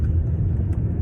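A car engine idles with a steady low rumble while the vehicle is being jump-started at a street corner, loud and close throughout with no voices.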